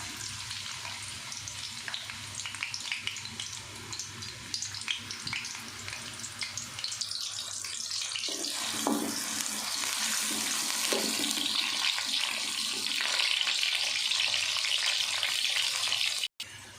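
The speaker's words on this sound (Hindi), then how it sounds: "घी गरम हो गया, अब हम इसमें प्याज डाल देंगे।" Onions hit hot ghee in a pot for aloo matar pulao, bursting into a broad, steady sizzle that swells louder midway, with a few stirring clatters and a sharp knock near the end; no talk.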